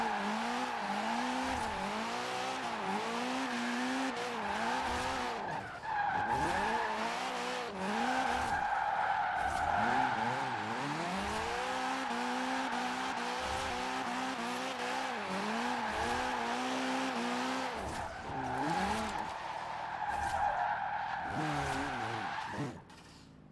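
A car in Forza Horizon 4 drifts with continuous tire squeal and skidding over a revving engine, the pitch sweeping up and down as the throttle is blipped repeatedly through the slide.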